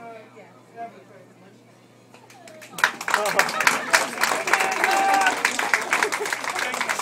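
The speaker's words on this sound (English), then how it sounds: "Slow clap" A crowd applauds after a short toast, with claps starting sparsely and building into steady, fairly close clapping mixed with voices and chatter.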